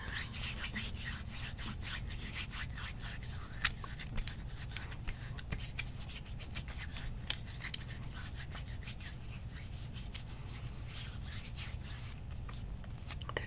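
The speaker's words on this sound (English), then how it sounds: "Let me just rub that in." Hands rub something into the skin in close ASMR style, a steady soft friction texture with scattered light taps and clicks, no voice over it.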